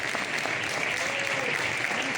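Sustained applause from an audience at a motorsport awards gala in Jaraíz de la Vera, a dense, steady wash of many hands clapping at even loudness throughout, with faint voices underneath.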